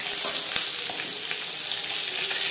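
Whole cumin and potatoes fry in oil left over from frying fish, giving a steady, close, even sizzle with small crackles throughout and no talking.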